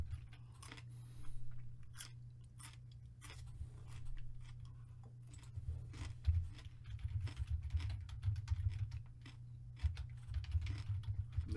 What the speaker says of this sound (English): I'm learning how to type properly, so I might be typing a little slow.